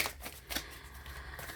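A deck of tarot cards is shuffled close by, giving quick papery riffles and soft flicks that come in short bursts.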